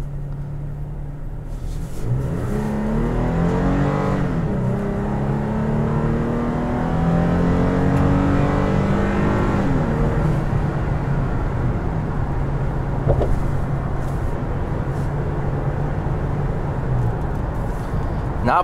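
2018 Toyota Tacoma TRD Sport driving at about 20 mph, a steady close engine drone with rising and falling gear tones as it accelerates, then a constant road and cabin rumble.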